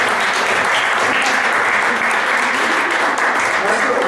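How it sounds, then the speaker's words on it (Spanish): An audience at a philosophy café session bursts into loud, dense applause that holds steady throughout, with voices mixed into the clapping. "Vamos a darnos un aplauso."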